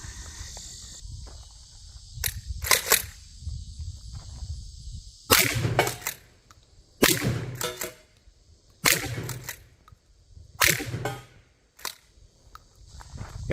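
A Citadel PAT 12 gauge pump shotgun fires several shells at an outdoor range, sharp loud blasts spaced a second or two apart, with faint insect buzz in the quiet gaps between shots.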